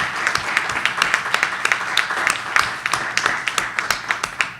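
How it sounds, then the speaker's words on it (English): Town council meeting audience applauding veterans, a room of clapping hands with distinct individual claps standing out in a steady, sustained round. "Let's give them a round of applause."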